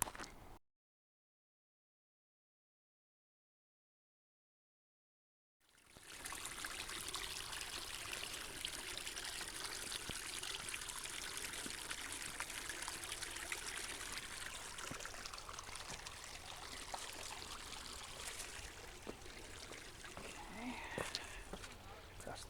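Creek water flowing on a hiking trail at Mission Trails Regional Park, a steady close trickle and rush that starts after a few seconds of silence and continues evenly, with brief faint knocks and footsteps over it.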